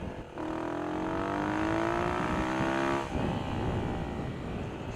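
A Yamaha WR450 supermoto engine howls at full throttle, its pitch rising steadily through one long pull, then dropping briefly on a shift before climbing again, loud and alone.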